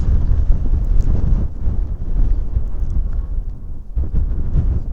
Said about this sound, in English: Oh, as you can tell, it's blowing like mad.